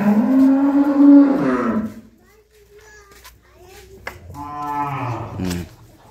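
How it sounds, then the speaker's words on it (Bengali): Sahiwal cattle, a young bull, lowing loudly up close with long drawn moos at the start and again near the end, with quieter farmyard sounds between. "ষাঁড় শাহিওয়াল বাচ্চা।"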